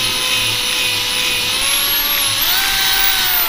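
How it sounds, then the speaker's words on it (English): Power drill boring a hole all the way through a table while building a DIY lamp, a loud, close, continuous high whine that rises in pitch toward the end, with no talking. "I'm not sure you want to drill a hole in the people's table"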